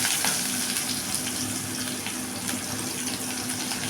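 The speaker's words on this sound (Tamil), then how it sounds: "எண்ணெய் காஞ்சிருச்சு. கடுகு போட்டுக்கலாங்க." Mustard seeds in hot oil, a dense, steady sizzle with faint crackles and pops throughout, close and alone.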